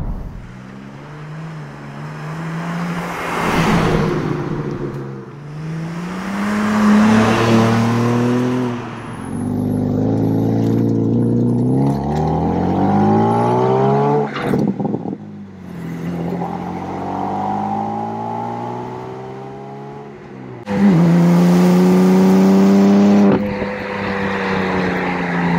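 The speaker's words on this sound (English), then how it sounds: "It's not BMW's best sounding engine." A BMW M3 with manual transmission accelerates hard, its engine revving up through the gears with repeated climbing pitch sweeps and brief drops at each shift, loud and close throughout.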